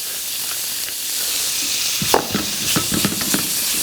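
Thick slices of salt-and-pepper seasoned meat sear in a hot pan for doenjang pasta, giving a steady close sizzle broken by clattering utensil scrapes and stirring in the second half.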